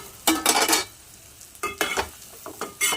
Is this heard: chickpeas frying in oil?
yes